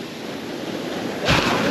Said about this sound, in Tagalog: Ang lakas ng alon, eh.